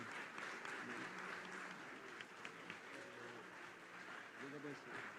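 A church congregation claps in a dense, continuous round of applause that stays fairly far off and faint, with voices mixed in.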